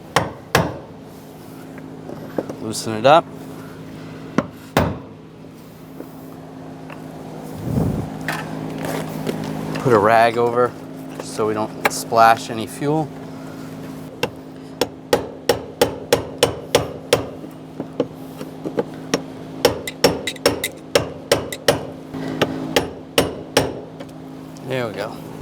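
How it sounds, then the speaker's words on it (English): Hammer strikes a brass punch against the fuel pump lock ring of a 2004-2009 Audi A4 Quattro, sharp metallic taps coming in irregular bursts, then a steadier run of quick close knocks, with someone talking in between. "just using a brass punch so you don't get any sparks, and a hammer, just give it a tap."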